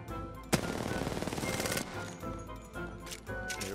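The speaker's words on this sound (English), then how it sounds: "Start shooting and see did they reply." Rapid automatic gunfire in the battle royale shooter Apex Legends, a sharp shot then a dense rattling burst lasting over a second, followed by a lull and further bursts, loud and close with no talk.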